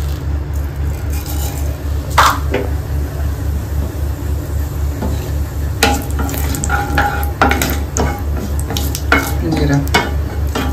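Mustard seeds hit hot oil in a pan and sputter loudly, with rapid popping crackles and bursts over a steady low hum, and no voices.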